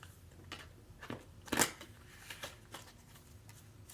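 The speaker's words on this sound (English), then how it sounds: "And then I'm going to shuffle another 3 times and pull 1 card from my oracle deck." An oracle card deck being shuffled by hand, giving a few soft papery riffles and flicks with one sharper burst in the middle, close and quiet, with no talking.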